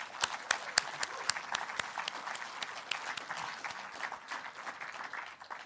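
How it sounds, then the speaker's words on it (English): An audience at an awards celebration applauds with a crisp, fairly distant patter of clapping, some sharp individual claps standing out early before the applause thins and softens toward the end. "Please take this opportunity to thank Cindy with a round of applause."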